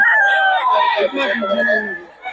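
A nine-month-old gamecock stag crows once, loud and close, in a long wavering call that fades at the end, with someone talking over it.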